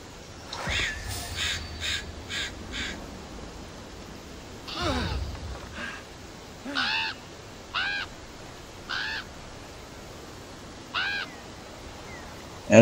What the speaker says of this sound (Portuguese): Era pra ter mandado o corvo lá no outro,